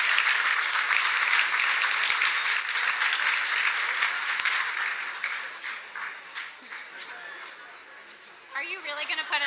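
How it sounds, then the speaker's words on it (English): A round of applause at a charity gala dinner in New York City welcomes two people: dense, sustained clapping from a large crowd that thins out midway, with voices starting up near the end. "Please welcome and join me in a round of applause for David Rockcamp and Ann Dunn"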